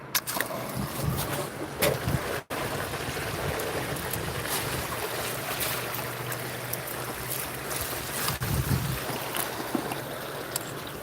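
A short pulse of water surges through a gold mining setup in Alaska, a steady rushing, gurgling flow that runs close and fairly loud for the whole stretch, with a brief cut near the start.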